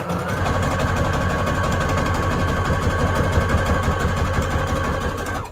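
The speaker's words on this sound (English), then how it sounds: "Let me show you my sewing machine just a little bit." A sewing machine runs steadily at close range, stitching an index card collage pocket for a junk journal, with a continuous motor whir and rapid needle rhythm and no talking.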